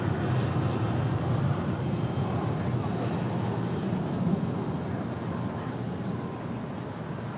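A Boeing 747 airliner taking off at LAX: a loud, steady jet engine roar with broad rumbling noise that holds throughout, heard from outdoors.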